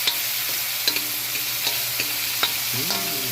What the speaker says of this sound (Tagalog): Sunod kamatis. Yan. Gisahon pa.